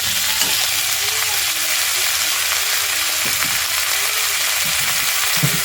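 Drumstick vegetable, potato and tomato sizzle steadily in a pot, a loud continuous frying hiss with occasional scrapes and clunks of stirring close by.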